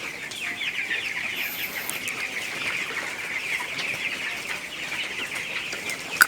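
Chickens in a poultry farm cluck and chatter steadily throughout, a dense flock sound with constant overlapping calls at moderate volume.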